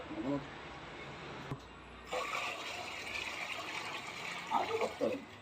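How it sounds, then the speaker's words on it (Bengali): Water is poured into a household air cooler's tank in a steady splashing stream, close and fairly loud, with brief pauses and a voice talking over parts of it. "বেশি করে জল ঢালো নাহলে ঠান্ডা হবে নি"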